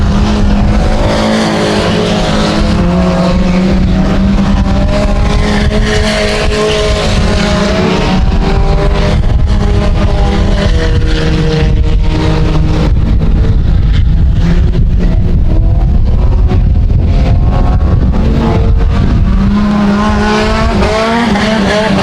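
Mini stock race cars roar around the dirt track at Genesee during a heat race, their engines loud and continuous, rising and falling as the pack passes close by.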